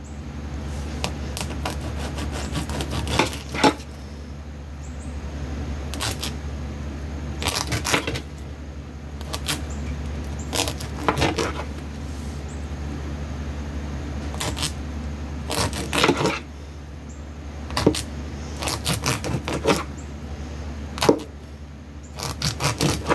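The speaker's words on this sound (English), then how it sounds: "it's best to use a serrated knife and keep wiping it off too" Serrated knife sawing through sausage on a board, a series of short scraping, crunchy strokes repeating at irregular intervals, close and moderately loud over a steady low background hum.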